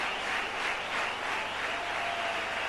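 Cricket crowd in a Mumbai stadium applauding steadily at a one-day international between Australia and India, a dense continuous roar of clapping and cheering that swells and eases slightly throughout.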